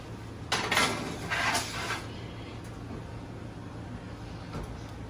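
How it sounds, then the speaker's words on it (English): Baking pans being slid into a home oven before dinner, a couple of metallic clanks and scrapes close by, then a quiet hum with a faint knock. "In the oven they go."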